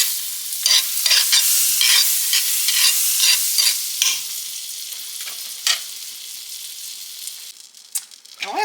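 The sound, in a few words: pancake frying in butter on a griddle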